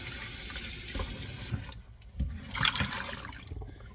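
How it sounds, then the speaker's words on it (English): Tap water runs steadily into a kitchen sink as raw chicken is rinsed under it, a continuous close splashing hiss that dips briefly and then surges again. "I like to turn on the water, and I like to just skim my meat, take off any sludge"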